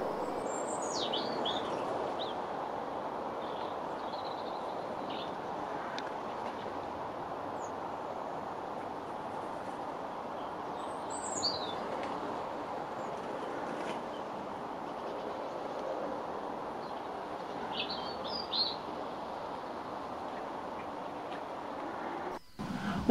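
Female blackbirds feeding on berries give scattered short chirps and calls over a steady outdoor background hiss, faint and sparse across the stretch, with a brief knock near the end and no talk.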